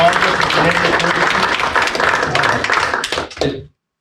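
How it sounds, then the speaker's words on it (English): A small group at a meeting applauds with close, distinct hand claps that thin out and stop abruptly near the end, with some talk mixed in. "let's give Rich a round of applause."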